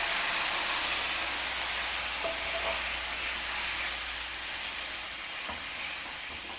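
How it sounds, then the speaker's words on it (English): Tamarind extract mixture bubbling as it boils in a pot while cooking an Onam Sadya dish, giving a steady, close hiss and sizzle with a few faint clinks, no talking. "And let it all boil well together."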